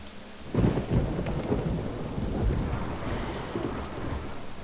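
Thunder strike with heavy rain in the video game OpenRCT2, a deep rumbling crash rolling over a steady, dense downpour, loud and close with no talk.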